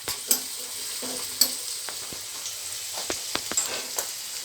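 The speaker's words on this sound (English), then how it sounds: "we are also getting our tempering ready. Make sure the onions are translucent," Onions sizzle in oil for the tempering of sarson ka saag, a soft, steady frying hiss broken by a few sharp clicks and spatters from stirring, nearby and without any voices.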